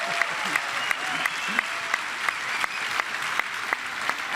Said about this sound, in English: So give yourselves a round of applause for showing up for this kind of program.